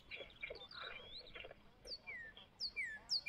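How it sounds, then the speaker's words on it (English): A bird flying through a house in the indie game Last Stop: Station 66 gives quick, high chirps that grow louder and more frequent toward the end, after softer murmuring at the start. "Did that bird really just fly through this house and, like, through the wall?"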